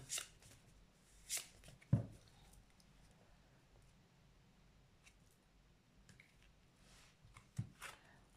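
Tarot cards are cut and drawn in a line for a reading, giving a few soft, quiet shuffling and card-slapping sounds spread across a hushed room.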